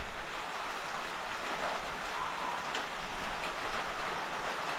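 Heavy rain pours down outdoors around a bunny barn, a dense, steady hiss with no pauses and no talk.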